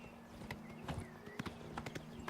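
Horse hooves clip-clop at a steady riding gait in the video game Oblivion Remastered, with clear, fairly close hoof strikes over a low hum of game ambience.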